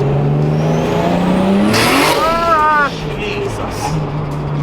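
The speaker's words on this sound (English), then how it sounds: "The sound of the screamer pipe. It's like someone screaming at you." A 650bhp Toyota Supra with a screamer pipe exhaust, driven hard on the road: a loud, continuous engine roar that climbs in pitch, then shifts and settles after a brief shrill burst of wastegate noise.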